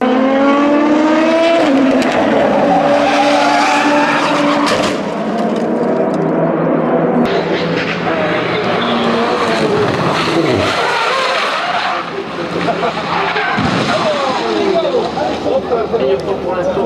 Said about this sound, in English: It doesn't quite grip and spits him right into the barrier.